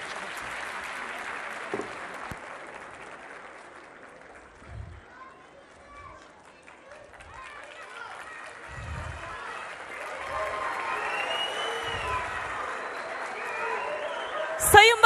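An audience claps at a formal ceremony marking the International Day for the Elimination of Violence Against Women, a soft, sustained patter of applause heard from a distance and swelling slightly toward the end.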